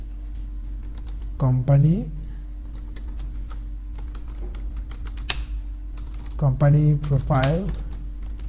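Text being typed on a computer keyboard, brisk clusters of crisp key taps running throughout, interrupted twice by someone speaking briefly over the clicks.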